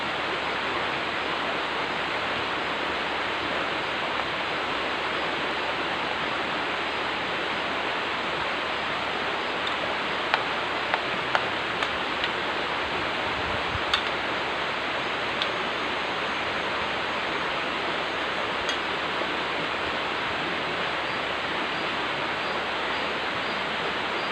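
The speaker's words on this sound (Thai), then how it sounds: "ฟังเสียง น้ำตกหลายลำธารหลายธรรมชาติเนี่ย" Continuous rushing water of a waterfall and stream at Khlong Maduea, Nakhon Nayok, a steady broadband roar, unchanging and fairly close.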